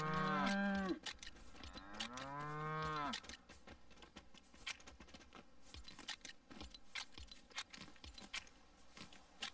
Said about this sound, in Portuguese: Olha as vaquinhas aqui.